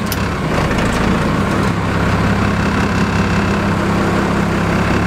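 A Cummins diesel engine runs after a repair, giving off a loud, close, steady low rumble with a constant clatter, with no talk over it.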